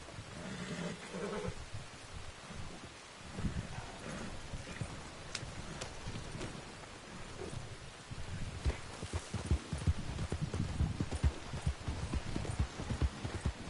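Horse hooves clip-clop in the video game Red Dead Redemption 2, a steady run of hoofbeats that grows denser and louder toward the end, with no talk over it.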